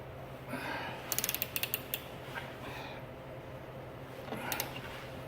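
A ratchet wrench tightens a bolt on a 2005 Ski-Doo snowmobile ball joint, giving a quick run of sharp close clicks, then a few slower clicks, with a short creak near the end.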